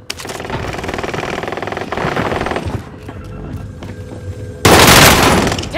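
Heavy automatic gunfire in Call of Duty: Modern Warfare, loud and close, with sustained rattling bursts, a brief lull of quieter shots, then a final dense burst near the end.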